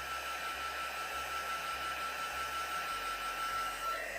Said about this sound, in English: Let's just go over that with our heat gun slightly, making sure that all those inks are nice and dry.